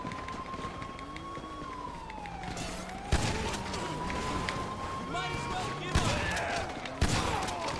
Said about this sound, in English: let me try the bullpup shotgun.